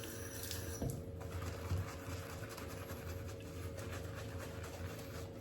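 Water running from a bathroom tap into a sink while working up shaving lather, a faint steady hiss and trickle, low and continuous throughout with a few soft clinks.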